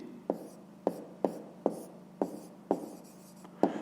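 A pen taps and scratches on paper while working a fifth-grade maths exercise, giving seven distinct strokes at a steady, unhurried pace, close and quiet.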